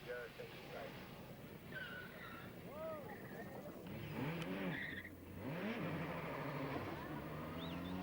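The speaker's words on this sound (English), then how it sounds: "Finally, the leading car appears." Leading rally car approaching on a South African rally stage, engine note rising and shifting through gears with brief tyre squeal, growing louder over faint background chatter.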